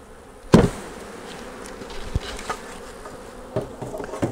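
Honeybees buzz around an open hive at sunset, a steady close hum of many insects, with a few sharp knocks and thumps of hive equipment, no talking.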